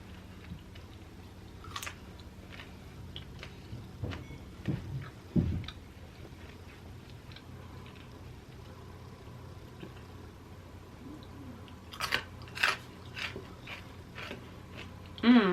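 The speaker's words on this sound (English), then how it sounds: "That was a crunchy bun." Sporadic close crunching bites and chewing, a few sharp crunches then quiet stretches, with faint background rumble.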